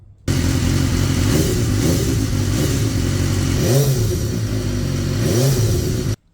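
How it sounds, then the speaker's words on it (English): A 2014 BMW S1000R motorcycle engine idles loudly and raw without its exhaust fitted, then revs up twice in quick surges before cutting off abruptly at the end. "we're going to start it and run it so you can hear what it sounds like without the new exhaust on"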